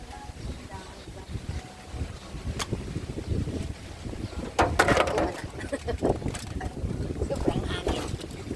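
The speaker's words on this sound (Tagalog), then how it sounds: "Sobrang hangin." Strong wind at a seaside beach resort rumbles and buffets against the microphone in uneven gusts, with occasional sharp knocks, while people talk nearby.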